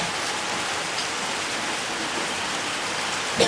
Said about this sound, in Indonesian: dan yang diberkati oleh Tuhan Yesus Kristus, hujan tidak menjadi penghalang bagi kita untuk menikmati persekutuan ibadah hari